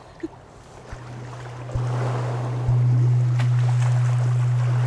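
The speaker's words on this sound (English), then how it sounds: "Just let the sound of the bowl penetrate your being as the waves crash" Waves on a beach roll in as a broad wash of surf at a dawn ceremony, while a singing bowl hums in a low sustained tone that steps up louder twice and rings on steadily.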